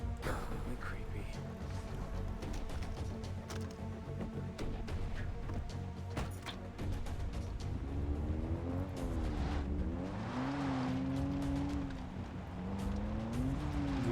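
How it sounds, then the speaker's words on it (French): A car in the Far Cry 3 video game drives along with a steady engine drone and rumble, rising into revving and tire noise toward the end, with faint game ambience underneath. "Une voiture, dommage qu'il n'y ait pas la radio là."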